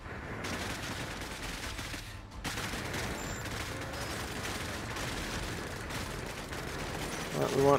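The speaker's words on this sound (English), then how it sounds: "Let's get a carpet bombing in here." A carpet bombing airstrike in Cepheus Protocol, heard as a long, dense roll of overlapping explosions and crackling blasts that drops briefly, resumes and grows louder at the close.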